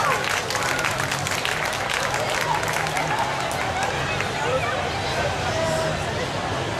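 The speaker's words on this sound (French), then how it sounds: "Des applaudissements pour elle, elles l'ont vraiment mérité." Crowd applause at a group cosplay prize ceremony during Chibi Japan Expo 2008, a steady dense wash of clapping with murmuring voices underneath throughout.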